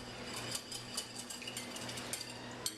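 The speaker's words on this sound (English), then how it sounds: "Now, I'm just going to whisk it up." A whisk clicks rapidly against a bowl while a marinade of coconut aminos is beaten, fast rhythmic metallic ticks over a low hum, faint and close.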